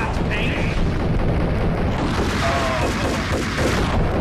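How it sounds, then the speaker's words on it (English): Enemy gunfire in the Max Payne video game, a dense barrage of booming shots and blasts while someone talks over it. "And look, they still shooting me up."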